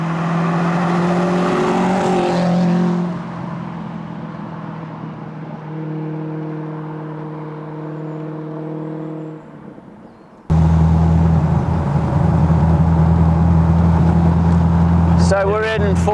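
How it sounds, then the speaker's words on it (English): Rover V8 engine in a Westfield sports car cruising in fourth gear just under 30 mph, a steady loud cabin drone that steps to a low idle-like hum, then surges back in under light throttle, with someone talking over it. "I'm just going to very gently just breathe on the accelerator pedal, and the engine instantly is responding"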